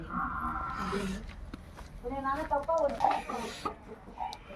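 A fighting rooster and hens cluck and call in short bursts nearby, with soft background voices in a farmyard.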